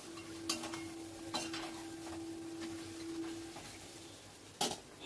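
A spoon scrapes and clinks against a pot of mutton biryani meat cooking over a medium-low flame, with a few sharp metallic knocks between softer stirring sounds and a faint steady hum behind.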